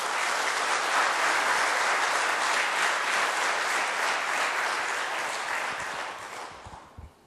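A large church congregation at a Korean women's mission dedication service applauds loudly and steadily for several seconds, then the clapping thins and fades out at the end.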